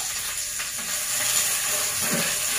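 Onions sizzle in a hot wok in a home kitchen, a steady bright hiss of frying with faint stirring scrapes, close and continuous with no voices.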